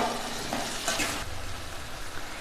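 Tomatoes and onions sautéing with rock salt in a pan, a soft close sizzle with stirring scrapes and a brief louder burst of spatula movement near the middle.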